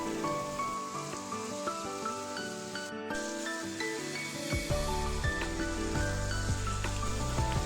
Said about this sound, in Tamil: இந்த சமயத்தில் நம்ம எடுத்து வச்ச இறாலை இதோடு சேர்த்துக்கலாம்.